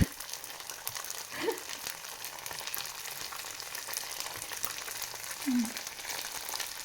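Thai chive cakes (kanom gui chai) frying in a pan of oil give off a steady, soft, close sizzle that runs the whole time, with a couple of faint bumps partway through.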